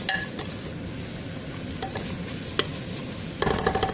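Tomatoes, carrots and dal are stirred in a pan for wheat rava pongal over a soft sizzle. A spoon scrapes and knocks against the pan several times, and the clatter grows busier at the end.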